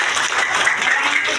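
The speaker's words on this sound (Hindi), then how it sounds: "तालियां बजाएं" A crowd at an Indian school's Children's Day celebration applauds to welcome guests, a close, continuous wash of clapping hands with a muffled voice blending in underneath.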